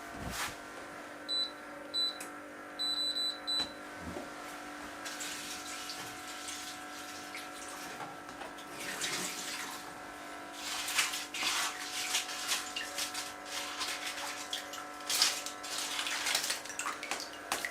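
Water runs steadily from a tap while dried soursop leaves are rinsed under it, a continuous hiss with occasional splashes. A few faint beeps sound early on.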